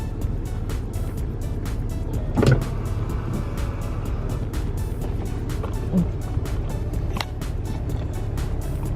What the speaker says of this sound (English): It has a power rear sunshade. So if you hit that,